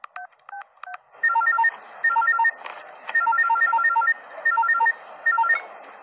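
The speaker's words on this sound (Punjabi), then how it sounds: "ਉਸੇ ਨੂੰ ਫੋਨ ਕਰਦੀ ਆ।" Telephone keypad tones beep as a number is dialed, several short evenly spaced beeps, then a repeating electronic ringback purrs in clustered bursts with short pauses, clear and close with no talk.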